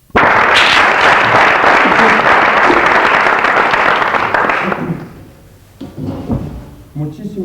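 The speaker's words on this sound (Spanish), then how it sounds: "por estos numerosos, calurosos e inmerecidos aplausos" A studio audience at a 1994 comedy show gives loud, dense applause for nearly five seconds before it quickly dies away, leaving a few scattered knocks and faint voices.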